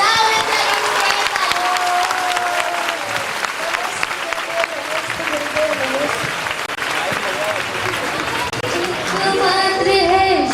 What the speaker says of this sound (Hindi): तो बजाओ विद्या गुरु के लिए ताली